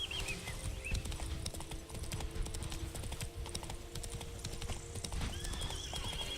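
Roach, a horse in The Witcher 3 video game, gallops with steady rapid clip-clopping hooves, loud and continuous, alongside a short neigh and game sounds in the background.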